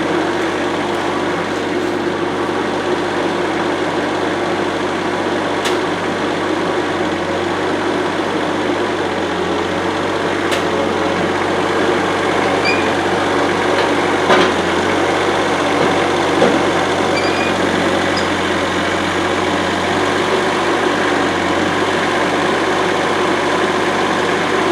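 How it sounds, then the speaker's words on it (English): Tractor engine running steadily as it lifts a wood trailer, a constant low diesel drone with a faint hum and a few scattered clanks over roughly twenty-five seconds, no talk. "So now I get the tractor."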